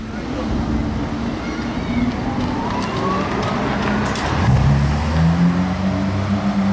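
A Ferrari 296 Speciale pulls away on electric power with a faint rising electric whine and road rumble, while people talk over it inside the car.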